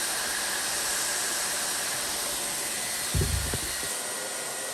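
A VEVOR 1600W hot air tool blows with a steady, loud airy hiss throughout, used for plastic welding, with a brief low bump of handling partway through.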